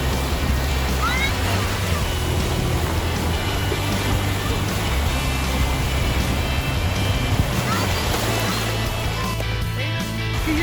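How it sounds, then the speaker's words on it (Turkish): Sea waves crash and surge in a continuous rushing roar, loud and near, with voices talking faintly beneath the water noise. "ya bu dalgalar çok büyük ya"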